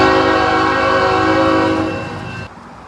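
A train holds a loud, steady, chord-like horn at a Plymouth, Michigan railroad crossing. The blast fades slightly and cuts off sharply near the end, leaving rumbling rail noise.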